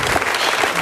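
A studio audience applauds after a jive dance on a ballroom dance competition show, a dense, steady roar of clapping with no break.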